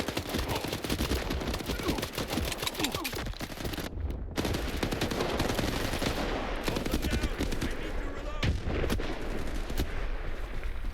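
Sustained, dense gunfire in the video game S.T.A.L.K.E.R. 2, rapid automatic bursts and shots ringing out loudly and continuously for the whole stretch, with a brief lull near the middle.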